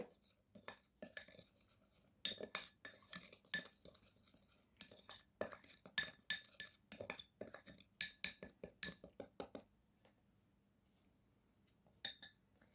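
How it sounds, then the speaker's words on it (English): Dry ingredients including wild turmeric powder being mixed in a bowl, with a steady run of sharp clinks and taps of a utensil against the bowl, then a pause and a couple of final taps. "And now mix well the dry ingredients together."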